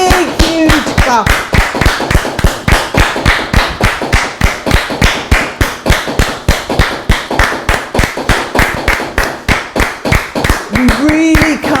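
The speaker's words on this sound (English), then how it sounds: "Give it a big, huge clap." A small group claps in a steady, rhythmic beat to support medical workers, sharp hand claps repeating quickly and evenly for the whole stretch, close and loud with brief voices at the start and end.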